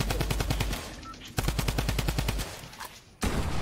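Rapid automatic gunfire in a video game as a player shoots at an opponent, loud bursts of repeated shots broken by two short pauses.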